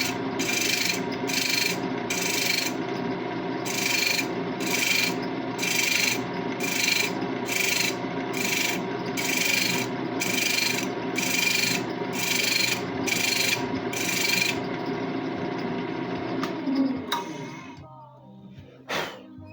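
A lathe chisel chasing threads into a wooden workpiece gives a steady rubbing rasp with regular rhythmic strokes, close and continuous, fading out near the end.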